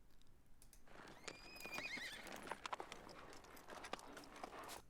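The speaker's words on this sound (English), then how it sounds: "Just a horse" A preset horse soundscape of hooves clip-clopping alongside a loud, quavering whinny, with snorts and hoof clatter continuing over steady ambient noise.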